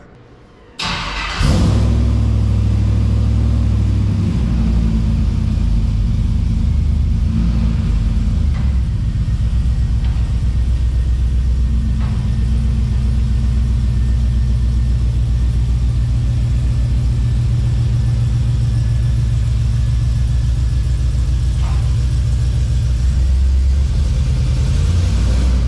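A slammed GMC Sierra truck with a new catback exhaust fires up and settles into a loud, steady, deep rumbling idle that holds for the whole stretch.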